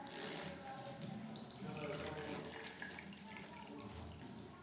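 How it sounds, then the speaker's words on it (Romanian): Water poured from a container into a glass holding a piece of liver during a classroom science demonstration, a steady close splashing pour running the whole time with faint room noise underneath. "tu toarnă apă."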